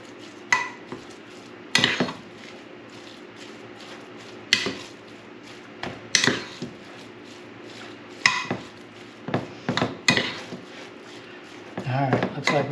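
Deer meat being stirred in a bowl for jerky, with scattered clinks and scrapes of utensil against the bowl that come in short irregular bursts, while a person talks in between.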